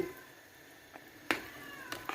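A cat gives a few short, fairly quiet meows in a calm room, spaced out over a couple of seconds.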